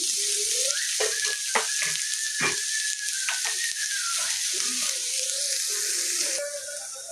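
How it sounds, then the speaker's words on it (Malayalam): Shallots frying in hot oil, a steady loud sizzle and crackle throughout, with occasional scraping clicks of stirring. "കൊച്ചുള്ളി ഇതിന് മൂക്കട്ടെ."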